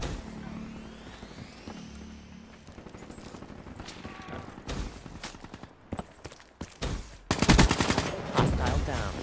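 Automatic machine gun fire in Call of Duty Black Ops III, sounding as dense bursts of rapid shots mixed with game effects, building to a loud sustained volley near the end.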